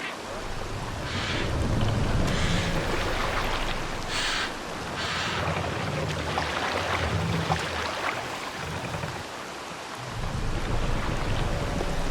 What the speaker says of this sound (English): We must row in these waters. No raising the sail here.